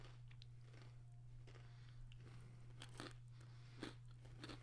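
Peanut butter chocolate Halloween candy with pretzel is chewed close up, giving crisp irregular crunches and bites over a faint steady hum, with no talking.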